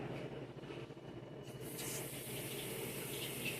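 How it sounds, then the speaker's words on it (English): Running tap water splashes as hands are rinsed in a kitchen while catering, a steady close hiss that grows fuller halfway through, with no talk. "now let me rinse my hands."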